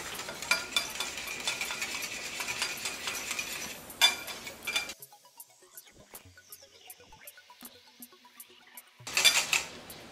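Whisk or spoon scraping and clinking against a bowl while Haitian cake batter with black lemon zest is mixed, a busy rhythmic stirring clatter for several seconds, then quieter scattered taps, then a brief burst of stirring again near the end.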